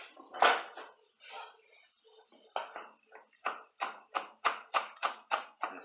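A knife roughly chopping cilantro leaves on a cutting board for salsa: a few scattered taps, then a steady run of about ten crisp, evenly spaced chops, close and clear with no talk.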